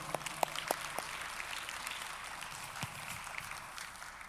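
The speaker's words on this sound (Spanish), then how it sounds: "Fuerte aplauso." A congregation at a church service applauds, a soft, diffuse patter of many hands with a few sharper claps near the start, heard at a distance and fairly faint.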